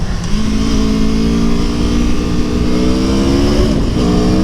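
A 2017 Aprilia Tuono V4 1100 Factory motorcycle accelerates hard, its engine note climbing steadily in pitch and staying loud and close throughout, with no talk.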